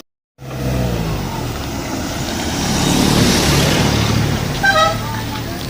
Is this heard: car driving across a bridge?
yes